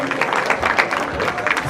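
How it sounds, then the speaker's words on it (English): Crowd at a junior livestock show arena applauding beef cattle exhibitors in the showman division, a short burst of scattered clapping with a voice speaking over it. "Let's give them one more round of applause, everybody"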